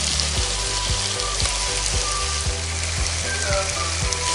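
Tomatoes drop into a pan of garlic, ginger and green chilli sautéing in oil for Thalassery chicken dum biriyani. A steady close sizzle carries regular scraping stir strokes and no voices.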